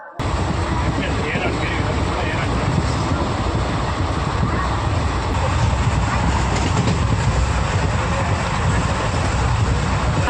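A passenger train rumbles along the rails toward Bhavnagar, a loud, continuous low roar with rattling carriage noise heard from inside the coach, with voices talking faintly over it.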